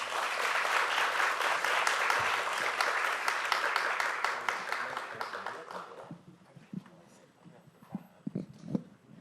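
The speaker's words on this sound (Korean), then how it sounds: "큰 박수로 부탁드립니다." Audience applause at a policy forum in a National Assembly library auditorium, welcoming a speaker, dense and steady clapping that thins and fades after about six seconds into scattered claps and room noise.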